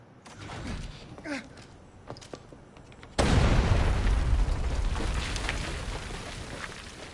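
A bomb blows up in a video game with a sudden loud boom that settles into a long rumbling roar, after quieter game sounds and clicks.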